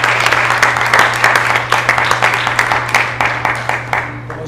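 Audience applause at a literature talk on houses, a steady dense wash of many hands clapping for several seconds, moderately loud, with a low constant hum underneath.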